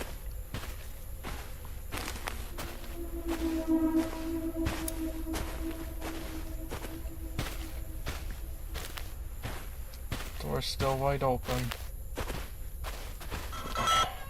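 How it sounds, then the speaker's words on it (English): Steady repeated footsteps in the horror video game Slendytubbies, crisp regular steps continuing throughout, with a brief spoken line partway through. "I could hear an extra set of footsteps"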